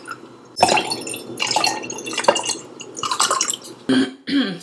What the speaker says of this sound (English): now I'm about to pour myself a glass of peach wine.